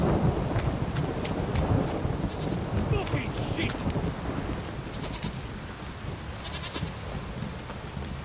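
Steady heavy rain with rumbling thunder fills a stormy scene in The Witcher 3, close and constant throughout, while a man swears briefly over it.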